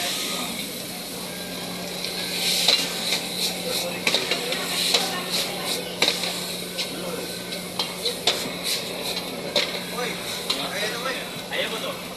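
Busy kitchen clatter of metal utensils scraping and stirring noodles frying in a pan over a steady sizzle, at a food stand in Ipoh, with voices chattering in the background.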